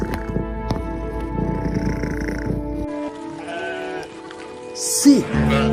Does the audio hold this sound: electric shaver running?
no